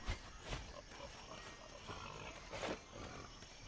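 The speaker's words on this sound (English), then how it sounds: "That sounds like a wolf." Wolf growling in the Valnir Rok video game, a faint low snarling and roaring over a busy game background, with a few louder bursts.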